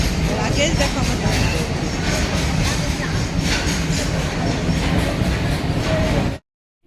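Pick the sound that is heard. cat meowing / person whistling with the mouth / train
train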